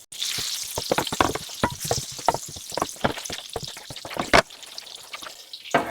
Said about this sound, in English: Turn on the heat and add 4 tablespoons of butter.